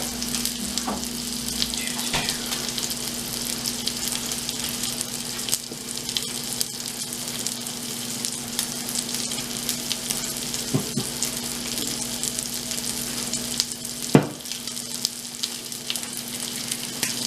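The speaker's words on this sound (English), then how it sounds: "Now as it's starting to cook, which you can start smelling the coffee and the sugar starting to caramelize on the bottom there" A coffee and sugar crusted steak sears in a hot pan, sizzling steadily with a constant crackling hiss, close and even, with a faint background hum and a few light clicks.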